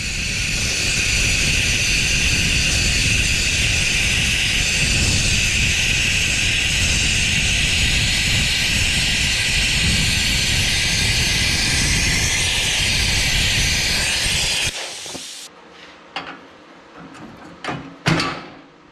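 A Bestarc BTC800XP plasma cutter slices through hardened metal with a loud, steady hissing roar that runs nearly fifteen seconds, then cuts off, followed by a few sharp clicks and knocks.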